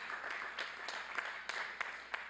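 A commencement crowd claps in a faint, distant patter of applause with brief sharper bursts scattered through the steady rustle.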